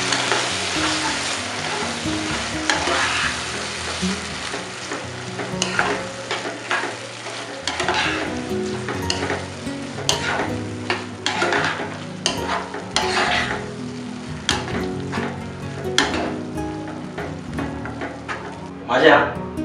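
Cooked dal, pressure-cooked until thick, is stirred in a pot over sizzling heat, with irregular scraping knocks and a steady frying hiss throughout.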